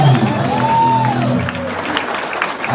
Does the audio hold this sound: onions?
no